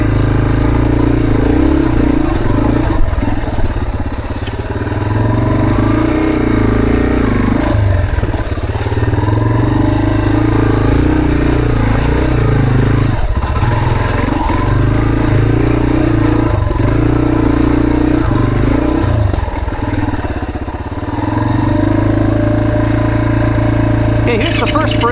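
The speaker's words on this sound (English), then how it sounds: "Here the RPM's up and down, it won't stay steady." An engine runs loud and close with its revs drifting up and down unevenly, never settling into a steady idle, with a rough mechanical clatter underneath.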